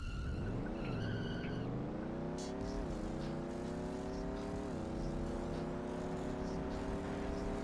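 Race car engine in a San Francisco Rush-style racing video game, a steady rising and falling whine with gear-shift dips and a brief tire squeal near the start, loud and continuous with no talk.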